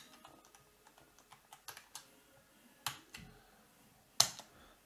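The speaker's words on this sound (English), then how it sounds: "here we have to type in the IP address" An IP address is typed into an SSH client on a computer keyboard, giving a sparse, irregular series of close key clicks with a few sharper, louder presses.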